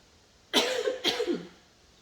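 Two sharp coughs in quick succession, close and fairly loud, in an otherwise quiet room.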